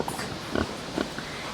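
Pigs on a farm grunt and snuffle close by, a few short low oinks standing out over a constant rough background of wind or rustling noise.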